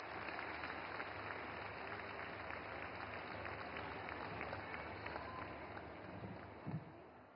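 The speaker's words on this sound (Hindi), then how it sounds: "तालियों से स्वागत करें माननीय मंत्री महोदया का।" Applause from a large audience at a government scheme launch event, welcoming a woman minister to the stage; a dense, steady wash of clapping that runs throughout and thins slightly near the end.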